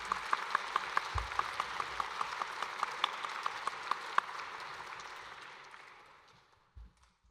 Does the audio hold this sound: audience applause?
yes